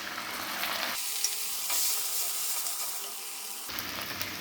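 Onions and garlic paste sautéing in a pan for pav bhaji, a steady close sizzle that drops away for a few seconds in the middle before returning, with no one talking.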